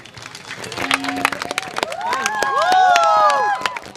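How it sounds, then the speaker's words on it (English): A crowd cheers and claps, with shouts and whistling over a steady wash of applause that swells toward the end. "give them a big round of applause for that skit"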